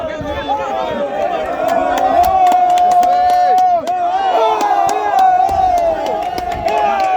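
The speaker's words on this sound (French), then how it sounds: "Et le public mélomane lui applaudit." A large crowd at a Guinea versus Gambia football match roars and cheers continuously, with whistles and sharp claps cutting through, a commentator-like voice audible in the mix.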